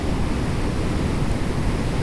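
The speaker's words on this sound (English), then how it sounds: "the waves are crashing against it" Steady, dense roar of surf in a storm, broadband and unbroken, like heavy waves pounding continuously with wind mixed in.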